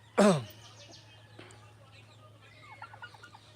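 A turkey hen with a long crest gives a loud, sharp call near the start, followed by softer scattered clucks and chirps from poultry over a steady low hum.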